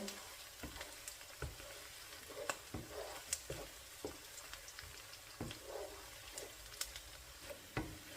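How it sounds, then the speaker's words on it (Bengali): Onion frying in a pan for a chicken curry, a steady close sizzle broken by sharp scraping clicks of stirring at irregular intervals, with no voices. "আমি পেঁয়াজটাকে একটু লাল লাল করে ভেজে নিব"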